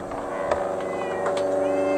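A cat meows in a farm or dairy setting, with a sustained tonal meow riding over a steady background hum and a few faint clicks, heard close and fairly clear without speech.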